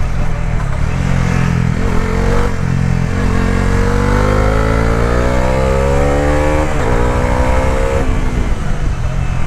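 A Bajaj Dominar 350 motorcycle engine revs up loud and close, its pitch climbing steadily through the gears with a couple of brief dips before rising again.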